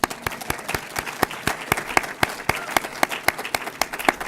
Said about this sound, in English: A great round of applause, please, for our MC, Neil.